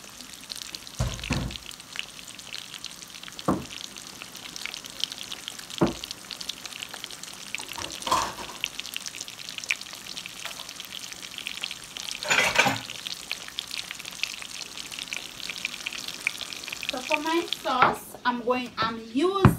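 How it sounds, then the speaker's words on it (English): Coconut shrimp fry in hot oil with a steady crackling sizzle, broken by louder bursts as pieces are stirred or turned, and a voice briefly speaks near the end. "coconut shrimp frying up"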